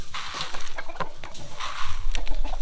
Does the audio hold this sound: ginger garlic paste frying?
no